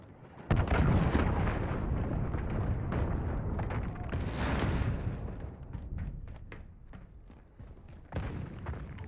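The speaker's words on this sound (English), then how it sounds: "Allied cruise missile away." Cruise missile strikes in the video game Modern Warfare (2019) land as heavy booming blasts, a loud sustained rumble of explosions with sharp thuds on top that swells and eases, then a fresh impact near the end.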